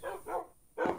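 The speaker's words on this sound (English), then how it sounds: "I really don't know half the names of these dogs." Dogs in a pet store bark in three quick bursts with a short gap of quiet between them, close and moderately loud, with no voices.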